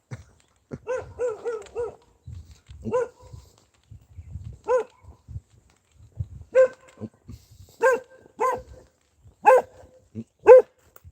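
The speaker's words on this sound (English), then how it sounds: "Dog with a Pringle can there." A dog barks on a morning walk in repeated bursts of sharp, fairly close barks with some higher yips, separated by gaps that carry low rustling and footsteps.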